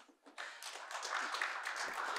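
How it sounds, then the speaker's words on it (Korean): Audience at a Korean games-industry talk applauding to welcome the speaker, a fairly faint patter of clapping that rises quickly after a brief pause and holds steady. "박수로 모셔보도록 할게요."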